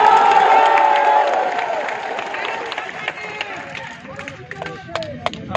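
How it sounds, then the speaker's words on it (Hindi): A crowd at a Bihar 2020 election rally applauds and cheers, a dense roar loudest at first and thinning into scattered claps, with voices mixed in. "आप लोगों ने तालियां बजाकर बहुत ही गर्म जोशी के साथ स्वागत किया है"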